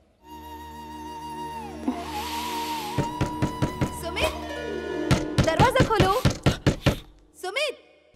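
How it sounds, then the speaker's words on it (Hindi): Several sharp knocks land on a door, coming in uneven bursts that grow more insistent toward the end, mixed with music and tones in a dramatic film scene. "सुमित दरवाजा खोलो ना।"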